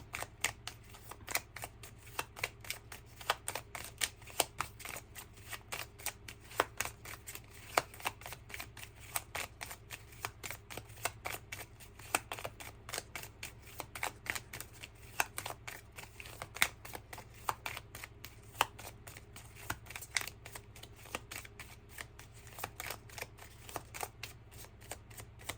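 Tarot cards being shuffled by hand, a soft continuous riffle of rapid papery flicks and snaps running steadily throughout, close and fairly quiet with no talking.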